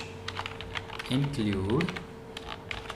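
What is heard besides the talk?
typing code on a computer keyboard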